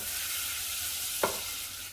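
Butter melting in a pan with onion and a little cooking oil, a soft continuous sizzle with one brief clink of a utensil stirring against the pan, close and quiet.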